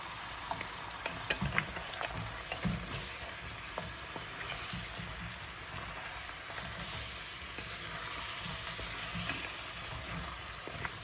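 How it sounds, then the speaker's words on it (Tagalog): Pork spare ribs fry in a pan, a constant close sizzle broken by clattering stirs and scrapes of a utensil, with no voices. "Tapos, haluin lang natin ang maigi."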